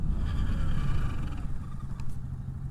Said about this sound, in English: We're going to experiment with maximum braking here on the Navi.